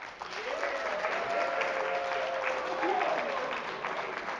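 A crowd applauds steadily for several seconds, a dense wash of many hands clapping together at even loudness.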